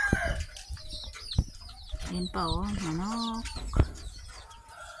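Free-range chickens cluck and squawk nearby, mixed with a rooster-like call and brief wing flapping, while a person speaks briefly over them.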